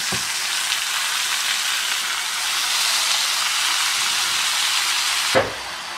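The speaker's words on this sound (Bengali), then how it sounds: "এখন ভাজিতে পেঁয়াজ প্রায় ভাজা ভাজা হয়ে আসছে" Onions fry in a pan with a steady, loud sizzle and hiss, broken near the end by a single soft knock.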